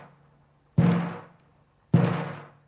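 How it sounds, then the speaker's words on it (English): A drum struck gently with polystyrene balls resting on the drumhead, giving two separate soft thuds about a second apart, each fading quickly in a short, quiet ring. "When I hit this drum gently, the vibration is very small."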